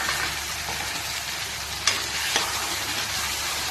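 Spice paste with red chilli frying in oil, a constant close sizzle broken by a couple of sharp stirring clicks, no talking.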